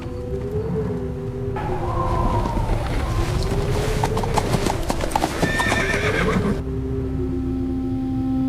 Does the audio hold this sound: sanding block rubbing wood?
no